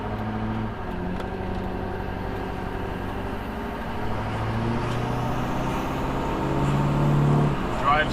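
A 2002 LB7 Duramax diesel pickup fitted with a Fleece Cheetah 63 mm billet turbo drives on the road at stock power, its engine drone steady and rising as it pulls, with turbo whine climbing near the end.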